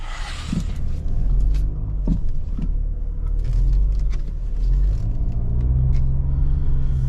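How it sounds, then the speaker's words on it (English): An Audi Q3 diesel pulls away and drives through an East London street, heard from inside the car. A low, loud engine rumble and road drone build steadily with a faint clatter, and nobody speaks. "straight away when you pull off, yes, you can hear it's a diesel"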